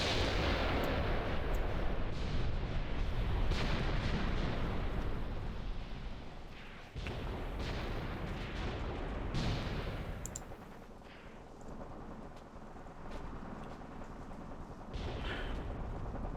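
Artillery barrage falling on a single infantry company in Graviteam Tactics, dense rolling booms and blasts that crowd together loudly at first, then thin into scattered impacts and crackling bursts, with no voices.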